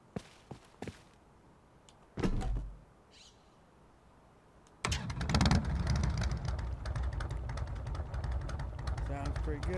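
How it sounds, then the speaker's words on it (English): A motorcycle in the video game Rust, heard after a few clicks and a brief thump, then starts into a loud, buzzing engine drone that keeps running steadily to the end. "And this is my motorcycle."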